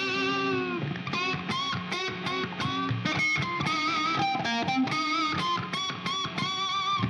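Electric guitar played through a delay effect with some reverb, a melodic line of picked notes with echoing repeats, moderately loud and alone without talk.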